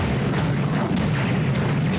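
Rapid spread-shot weapon fire in the arcade submarine shooter In The Hunt, a dense, continuous barrage of booming blasts with heavy low rumble and a few sharper bursts.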